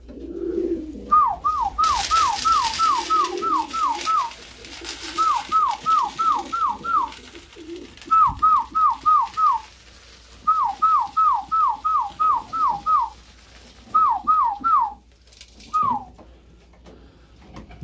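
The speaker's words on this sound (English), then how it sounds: "They're starting to respond to my whistle call fairly well" A person whistles a repeated call to pigeons at feeding time, quick bursts of rapid descending chirps separated by short pauses, with faint background rustle and some bird noise.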